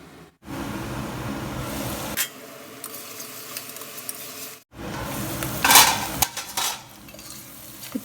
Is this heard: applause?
no